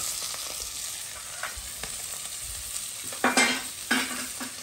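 Onions fry and sizzle in hot oil for a herring rougail, a steady hiss broken by a few louder stirring scrapes near the end, close and without talk.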